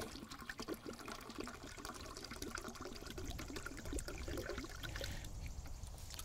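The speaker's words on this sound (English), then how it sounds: "We'll pour that 10th pint of water." Water streams from a pint measure into a coffee pot, a faint continuous splashing and trickling pour lasting several seconds without any voices.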